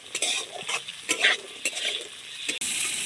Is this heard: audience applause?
no